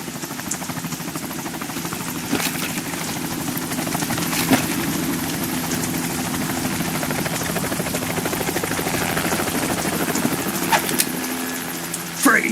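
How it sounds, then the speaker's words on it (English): A helicopter in the video game Metal Gear Solid 2 drones with a steady rotor thrum and engine hum, with a few faint knocks over the continuous noise. "You will be on the helicopter out of here now."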